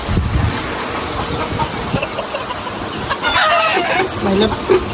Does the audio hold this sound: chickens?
yes